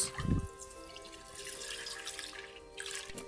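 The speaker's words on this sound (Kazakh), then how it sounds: "Ыңғайлы кастрюльге 1 литр сүт құйыңыз." Milk being poured into a saucepan for a magnolia dessert, a close liquid splash and steady trickle that stays soft throughout, with a brief louder knock at the start and no voices.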